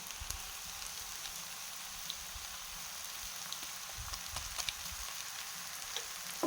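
Noodles with tomato and egg frying in a pan, a steady soft sizzle with a few light scrapes and clinks of stirring, fairly quiet and continuous with no voices.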